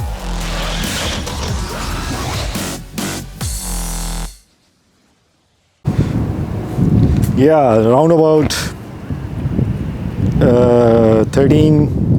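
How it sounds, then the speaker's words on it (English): Blustery wind buffets the microphone with a broad roar, cutting out briefly midway, while a person talks over it nearby. "Don't mind the wind, it's quite windy"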